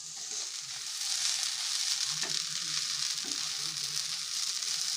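Semolina roasts in a pan for suji halwa, giving a steady gentle sizzle with soft scraping strokes of stirring that rise and fall throughout.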